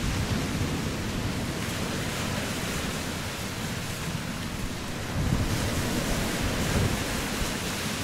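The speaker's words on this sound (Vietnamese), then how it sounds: "Giờ sóng rất là lớn các bạn." Large sea waves and surf roar without a break out on open water, a loud, dense wash mixed with wind buffeting the microphone, growing a little stronger toward the end.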